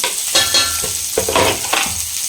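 Onions sauté in a pan for ragi semiya upma, a close, fairly loud sizzle broken by several scraping stirs of a spatula against the pan, with no talking.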